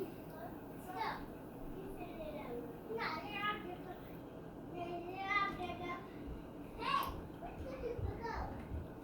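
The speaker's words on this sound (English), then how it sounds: "Excuse the background noise, I got kiddos in there always wanting to play." Children play and chatter in another room, their high voices and squeals rising and falling in bursts, faint and distant over a steady low indoor hum.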